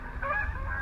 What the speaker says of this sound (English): That's a geese in distress, which is supposed to spook the other geese from sticking around.